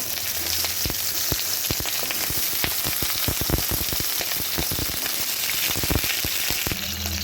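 Cut pointed gourd (parwal) fries steadily in hot white oil, a loud, continuous sizzle dotted with sharp crackling pops throughout, with no voices.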